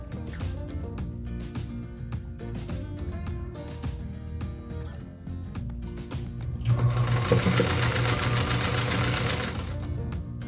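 A sewing machine stitches quilt block units for a 9 patch star quilt block, running as a steady close mechanical whir that grows louder and faster near the end, with no talking.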